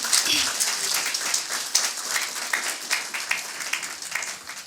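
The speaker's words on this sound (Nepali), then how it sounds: "एकछिन जोले ताली बजाउँ परमेश्वरलाई पहिला एकदमै धन्यवाद दिउँ।" A church congregation clapping together during a Nepali Christian worship service: dense, rhythmic hand claps forming a steady, lively wash that continues throughout.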